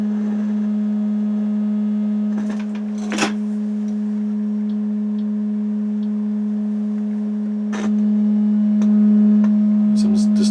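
A 200 Hz test tone plays through a Realistic STA-21 receiver as a loud, steady, unbroken hum. A few brief clicks and bumps sound over it.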